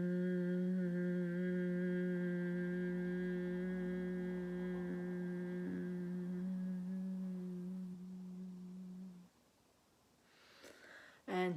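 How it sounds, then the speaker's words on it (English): Steady, sustained humming by a person with hands cupped around the head, one long held tone lasting about nine seconds, close and fairly loud, followed by a breath and a pause. "just start humming"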